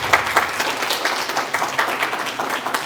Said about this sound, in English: would you please give these speakers a round of applause?